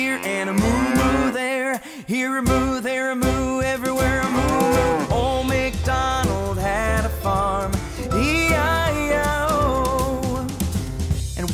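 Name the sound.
cow mooing in nursery rhyme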